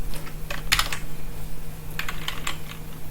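A few sharp keystrokes on a computer keyboard as the Ctrl+F5 shortcut is pressed, two brief clusters of close clicks separated by a quiet pause, no speech.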